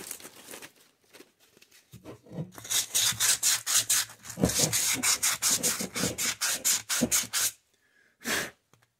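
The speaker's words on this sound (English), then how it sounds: "I need a new piece of sandpaper." Sandpaper rubs back and forth on a Cub Cadet 1882 PTO bearing part in a rapid run of loud, close, rhythmic scratchy strokes, with a brief pause near the end before one last stroke.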